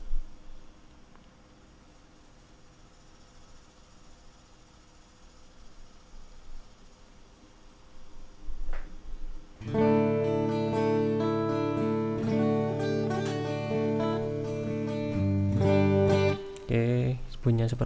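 Electric guitar with amp-style tone plays a run of distorted notes and chords after a quiet stretch of low background hiss.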